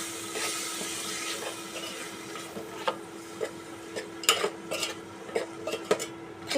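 Spice paste of cumin powder and Kashmiri chilli powder with a little water being worked in a pan for a desi chicken curry, with a steady low sizzle and a series of light spoon scrapes and clinks that grow busier toward the end.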